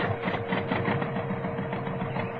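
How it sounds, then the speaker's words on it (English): A tractor motor for a radio drama sound effect runs with a dense, steady, mechanical chugging drone, loud and close, with no pauses. "Start up tractor motor!"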